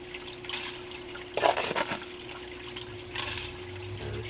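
Water trickles and splashes through a gold sluice loaded with paydirt at a low, steady level, with a few brief louder gushes and a faint constant hum underneath.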